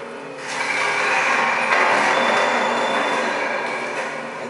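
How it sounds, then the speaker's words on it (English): Jammed conveyor machinery in Fallout 3 gives off a loud, continuous grinding and screeching roar with a metallic rattle, rising in quickly and holding steady at close range with no voices. "Warning system error. Conveyors are jammed."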